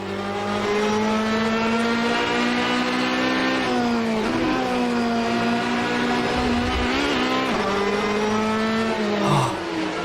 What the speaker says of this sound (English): Just listen to the sound of this Ferrari.